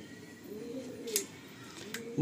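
Soft, low coos of a Madrasi Chotiyal pigeon repeat in two rolling phrases, close by, with a couple of faint sharp clicks in between.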